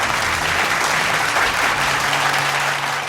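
Continuous clapping from a school annual day audience as a prize winner goes on stage, a dense steady wash of hands over a low hum, loud and unbroken throughout.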